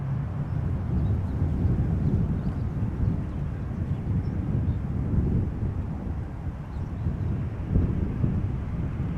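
A KLM Embraer 190 airliner arrives at Amsterdam Schiphol Airport, its low, continuous engine rumble holding steady and fairly loud, with wind buffeting the microphone throughout.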